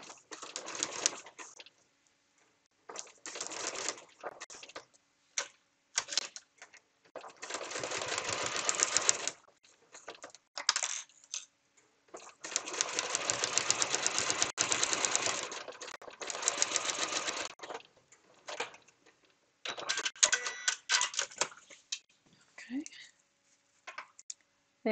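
A domestic sewing machine stitches a foundation paper-pieced letter K in many short and longer bursts of whirring, starting and stopping unevenly, close up, with a voice talking at times.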